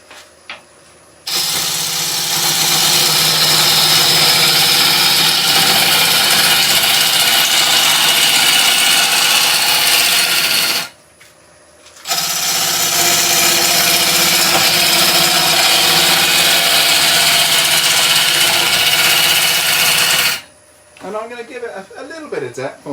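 A wood lathe spins a burr bowl blank, whirring loudly and steadily with a broad hiss, stopping briefly twice before starting again, and a voice is heard speaking at the end.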